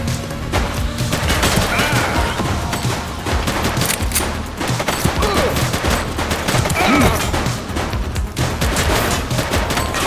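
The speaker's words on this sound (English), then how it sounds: "He's shooting!" Gunfire in the police video game The Precinct, as dense sustained volleys of rapid shots and bursts that crackle without a break for ten seconds, with a few shouted voices mixed in.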